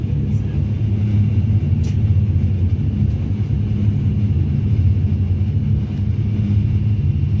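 An airliner lands at night in Brisbane in a flight simulator game. A loud, steady, low engine rumble and drone continues throughout without a break, with faint voices in the background.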